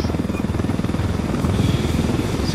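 A helicopter's rotor chops in a fast, steady rhythm with a droning buzz in the video game Ghost Recon Wildlands, loud and continuous throughout, without talk.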